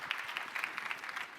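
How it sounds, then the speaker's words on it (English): Conference audience at a summit giving a round of applause, many hands clapping in a brisk, dense patter at moderate distance, steady and unbroken for a little over a second. "give Erica a huge round of applause"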